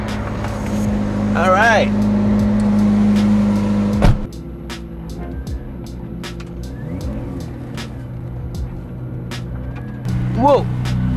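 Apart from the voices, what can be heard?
McLaren P1 car engine in race mode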